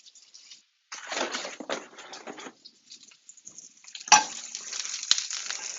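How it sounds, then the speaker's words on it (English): Cauliflower dropped into a hot pan over medium-high heat, breaking into a bright, crackling sizzle that swells and fades as pieces go in and get stirred, with a sharp clatter near the end. "So now the pan's hot, cauliflower is going in."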